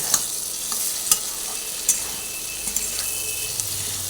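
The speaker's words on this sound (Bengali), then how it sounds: "নুনটা ভালো করে ক্যাপসিকামের মধ্যে মিশিয়ে দিয়ে ভেজে নিচ্ছি" Capsicum frying in a pan with salt, a steady sizzle broken by sharp clinks and scrapes of a spoon stirring against the metal, close and clear, with no talking.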